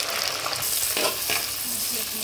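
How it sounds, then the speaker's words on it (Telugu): Onion, green chili and tomato pieces fry in a pot for chicken biryani, a steady close sizzle with soft scraping stir strokes throughout, no voices. "ఇప్పుడు దానిలోకి ఉల్లిపాయ ముక్కలను పచ్చిమిర్చి ముక్కలను టమాటో ముక్కలను"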